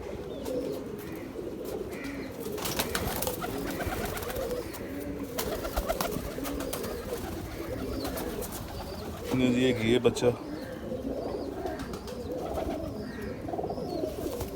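Pigeons, part of a flock of 29 Jonsary birds, coo softly in low, repeated murmurs while someone talks over them, with a brief louder flutter near the end.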